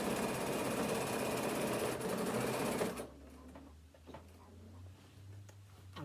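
Sewing machine stitching two fabric pieces of a phone stand together, a loud rapid mechanical whirr for about three seconds that stops abruptly, leaving quiet room noise with faint handling sounds.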